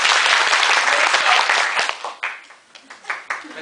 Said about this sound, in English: So what do you have to do when I say clap? You clap.